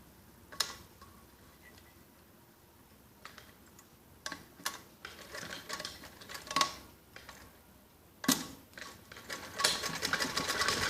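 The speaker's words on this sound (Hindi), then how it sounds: "ऐसे दोनों सिरों को मिला के नीचे से ऊपर तक सीधी सिलाई लगा देंगे।" A sewing machine runs straight side seams on a kids' top, bursts of rapid mechanical stitching starting and stopping with short pauses, close and fairly loud, no voices.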